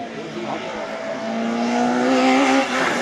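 Race car number 37 passing close at a hill climb, a steady loud engine note rising as it accelerates by, with tyre noise and faint background voices.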